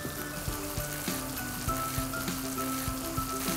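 Beef ribs drop into fried spice paste for a Balinese betutu in a pan, bursting into a steady, close crackling sizzle with sharp pops and stirring knocks, no voice over it.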